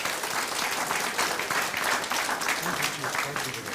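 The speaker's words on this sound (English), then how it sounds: "Let's be generous with our claps." Audience applause at a sickle cell disorder event, dense steady clapping from a crowd filling the room, loud and continuous throughout.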